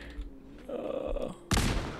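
A grenade thrown in Fallout 4 goes off in a sudden loud burst of the blast after a short stretch of quieter clatter and rumble, the explosion ringing out to the end.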